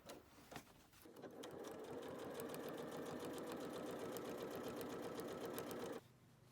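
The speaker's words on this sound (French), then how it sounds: "Surpiquez ensuite la ceinture à 2 mm du pli. J'utilise pour cela le pied pour ourlet invisible" Sewing machine topstitching a trouser waistband 2 mm from the fold using a blind hem foot with a guide: a steady, fast mechanical whirring hum runs for about five seconds, then stops abruptly, close and alone.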